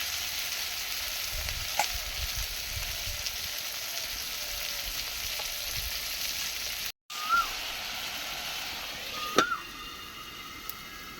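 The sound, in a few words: frying lote fish in a pan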